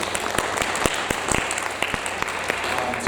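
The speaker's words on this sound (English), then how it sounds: "please give yourselves a round of applause for your attendance here on this evening" Audience at a chamber of commerce meet-the-candidates evening applauding candidates and attendees, a steady wash of many hands clapping with sharp individual claps standing out, no speech.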